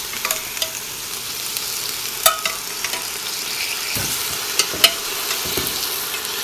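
Oxtail searing in a hot pan for kare-kare, a continuous close sizzle punctuated by sharp crackles and a few stirring clanks, no voices.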